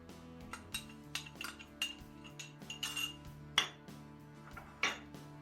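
Oil stirred into a starch and baking soda mixture in a bowl, heard as repeated faint clinks and taps of a utensil against the bowl at an uneven rhythm.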